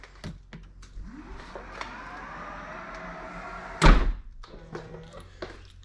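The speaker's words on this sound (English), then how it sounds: "I'm going to open and close this door just in case" A Ferrari FF car door thuds shut once, a loud solid slam after a stretch of low mechanical hum and a few small clicks and taps, heard close up with no talking.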